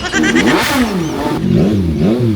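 A 2025 Honda X-ADV750 motorcycle fitted with an Akrapovic exhaust is revved up close, and the engine note climbs and falls in two quick, loud blips.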